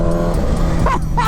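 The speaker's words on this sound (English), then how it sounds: "The sounds that come from this bike are wild." A Kawasaki Ninja H2 motorcycle engine runs loud and close, a dense rumble with a couple of sharp rising revs near the end.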